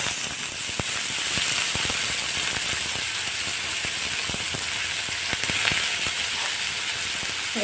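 Onions sizzle in hot oil for an egg podimas, a bright continuous crackle with scattered clicks and taps of a stirring utensil against the pan, close and steady throughout.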